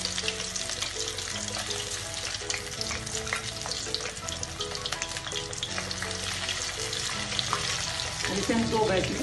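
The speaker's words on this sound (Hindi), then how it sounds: "अब इसे हम डीप फ्राई करेंगे और ये हमने तेल पहले से गर्म कर लिया है।" Marinated bitter gourd slices deep frying in hot oil over a medium flame, a loud, continuous bubbling sizzle with occasional stirring clatter near the end.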